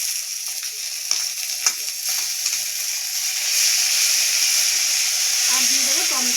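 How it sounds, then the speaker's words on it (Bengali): Steady, loud sizzling of onions being fried in a pan, with scattered clinks and stirring at the start and a voice speaking over the frying near the end. "পেঁয়াজটা লাল লাল করে ভেজে নিয়েছি, এবার আদা, রসুন আর কাঁচা লঙ্কা পেস্ট দিয়ে দেবো।"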